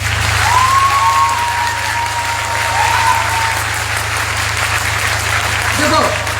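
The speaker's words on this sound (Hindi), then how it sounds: "अपने आप ही लोगों ने ताली बजाया" An audience at a motivational speech in Muzaffarpur claps steadily in a dense wash of applause lasting several seconds, with a voice speaking over it and a low hum underneath.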